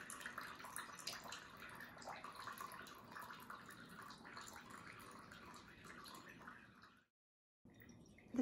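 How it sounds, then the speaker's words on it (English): Water poured onto garden soil mixed with bits of straw trickles and gurgles as it drains quickly through, a soft continuous wet seeping that stops abruptly near the end. "immediately you can see water's draining through quite quickly"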